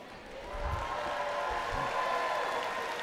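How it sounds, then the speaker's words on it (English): An audience at a robotics competition's opening ceremonies claps for the master of ceremonies, a dense, steady applause that swells after a quieter start and holds for several seconds. "That's a better applause for me."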